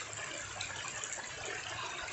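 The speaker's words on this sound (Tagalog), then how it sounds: "Lagyan natin ang tubig kasi sobrang sakit na yung pako." Spring water from Mount Kanlaon pours in a steady, rushing splash that stays even and close for the whole stretch, with no pauses or voices.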